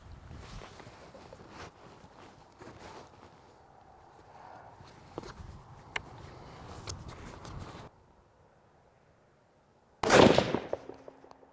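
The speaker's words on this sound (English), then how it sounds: "We're just shooting 130 grain terminal ascent, and what we're going to start out doing is we're just going to fire 2 or 3 rounds" A rifle firing 130 grain Terminal Ascent rounds while sighting in a scope at a range: one loud sharp report near the end after quiet shuffling and handling noises.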